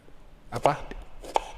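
A few quiet knife chops strike a cutting board at uneven intervals as an onion is cut small with a sharp knife, with faint sounds in the background.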